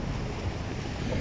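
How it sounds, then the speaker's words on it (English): Strong wind buffets the microphone at a beach with surf, a dense, loud rush of noise with no distinct breaks and no voices. "It's windy!"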